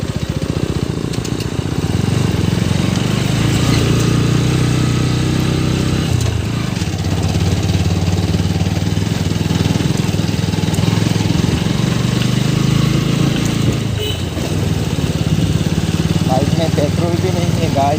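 A motorcycle engine runs steadily while riding on a road, a loud continuous mid-pitched drone with a brief dip partway through and no clear talk over it.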